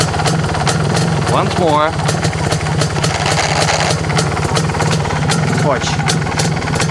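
An MZ motorcycle engine idles loudly and steadily with a fast ticking rhythm while the clutch is operated, and someone talks briefly over it.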